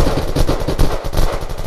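Rapid, loud bursts of gunfire from the Peacemaker weapon in the video game Unturned, a steady rattling run of shots across the whole moment.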